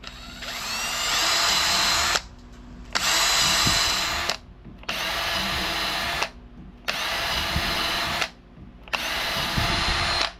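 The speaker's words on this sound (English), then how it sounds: "Put yourself a few holes in the bottom." Power drill boring several holes through the bottom of a homemade filter held in a vise, in five loud sustained whining bursts with short pauses between them, close up.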